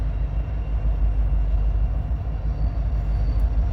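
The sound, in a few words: eastbound loaded coal train leaving rail yard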